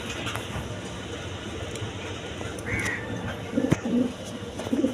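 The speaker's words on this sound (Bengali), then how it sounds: "দর্শক এইখানে এক পেয়ার ব্লেজার কবুতর আছে দেখেন, নরমাদি" A male and female pair of blazer pigeons gives soft, low cooing, with a few short bursts late on, over a busy, noisy background.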